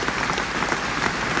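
A large audience at the Union debate stands and applauds James Baldwin's speech, a dense, loud, continuous wash of clapping from the whole hall.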